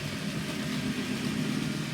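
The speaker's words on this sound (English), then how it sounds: "the engines are running pretty well straight off" An N gauge model railway locomotive runs steadily on an Exehaven Harbour layout, giving a continuous even whirring hum with a low motor drone, close and unchanging throughout, with no talking.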